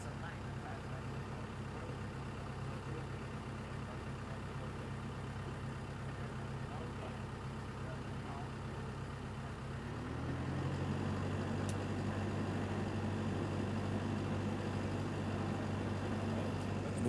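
A tractor engine drones steadily at high throttle during crop spraying. Partway through, the tone shifts lower and the engine grows slightly louder before carrying on evenly.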